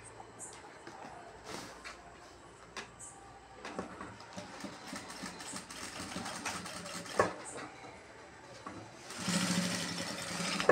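A sewing machine stitches the edge of a river grass (kora) bag, running in quiet intermittent bursts of rapid clatter that grow slightly louder and busier toward the end.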